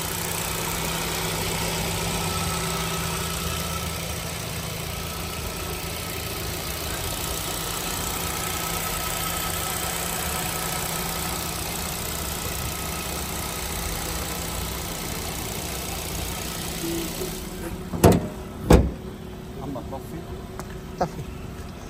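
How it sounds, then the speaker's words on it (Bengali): A 2022 Hyundai Accent sedan idles smoothly at close range, a low steady engine hum that runs unbroken, interrupted near the end by a few sharp knocks or thumps. "আপনারা শুনুন ইঞ্জিনের সাউন্ডটা"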